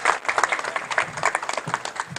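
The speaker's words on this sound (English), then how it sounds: "Please let's have a huge round of applause for all of our dignitaries." A conference hall audience at an IEEE power electronics and energy systems conference applauds its dignitaries, a dense, loud wash of many hands clapping at once, continuous and close.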